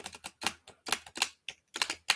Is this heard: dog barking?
no